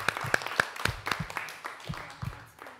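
A talent contest audience claps for a contestant, a handful of separate, fairly faint claps that thin out over a couple of seconds, with a voice speaking over them.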